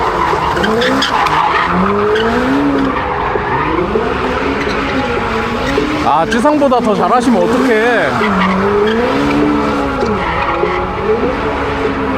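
A powerful, high-output car is driven hard on a race track, its tires squealing in long wavering howls as it skids through turns, loud and close, with the engine droning underneath throughout.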